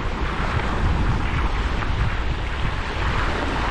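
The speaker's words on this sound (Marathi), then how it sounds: "खूप हवा येते मित्रांनो, बघा मस्त अशी हवा." Strong wind blowing at a lakeside buffets the microphone in a loud, steady, close roar throughout, with no voices.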